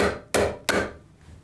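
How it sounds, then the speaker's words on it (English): A hammer drives a chisel to split a bathroom vanity top from its base, two loud, sharp, close strikes about a third of a second apart. "we're going to take a hammer and chisel and just separate that top from the base"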